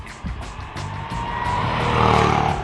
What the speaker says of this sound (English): Jaguar made serious efforts to ensure that the car boasted a nice throaty engine note.